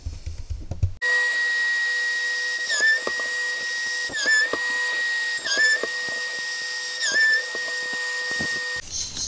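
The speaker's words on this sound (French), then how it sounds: "Voilà, donc là je vais percer juste comme ça." An electric drill bores into a part of a Victorinox Hiker pocketknife, giving a steady high whine that dips briefly in pitch several times as the bit loads up, then stops abruptly.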